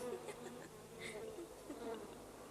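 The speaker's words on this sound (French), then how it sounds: "Ça bourdonne, ça ronfle, ça vole dans tous les sens." Cartoon bees buzz faintly in a soft, wavering drone with small rising and falling hums in an animated Maya the Bee scene.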